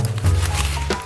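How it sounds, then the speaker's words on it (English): A knife cuts through rhubarb stalks with two short, close, crunchy thwacks over a low background hum. "We cut it with a knife,"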